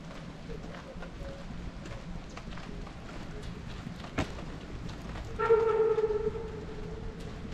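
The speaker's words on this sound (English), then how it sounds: "You can hear that train whistle from down there at the depot." A distant train whistle at a rail depot on Colorado's Million Dollar Highway sounds once, a steady tonal blast lasting about a second, over soft outdoor background noise and a single sharp knock just before.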